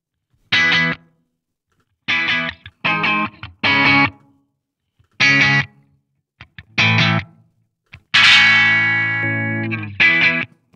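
Distorted electric guitar played through Positive Grid BIAS Desktop amp and cabinet simulations: several short chord stabs separated by silences, then a longer sustained ringing chord and one final stab, loud and close, no voices.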